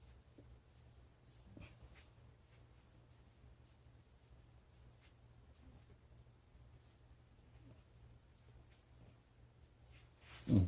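A brush drags softly across paper in short, faint repeated strokes over a quiet background hum, with a louder bump right at the end.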